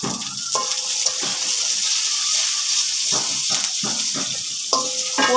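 Noodles being stirred in a hot pan, a continuous close sizzle and hiss broken by a few soft scrapes and clinks of the spoon.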